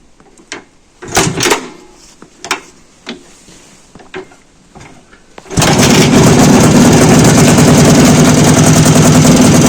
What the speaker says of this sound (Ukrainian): Трохи плавають обороти, але це через китайський карбюратор.